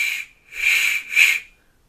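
A cut-open 12 gram CO2 cartridge blown like a whistle gives three breathy, hissing whistle tones, each under a second long with short gaps between, close and fairly loud.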